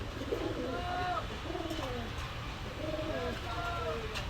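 A pair of Rajgola pigeons coos softly in repeated throaty phrases, faint beneath a steady noisy background hum at a pigeon market.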